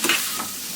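Bitter gourd pieces sautéing in hot oil, stirred through a short, close burst of sizzle and scraping with no voices.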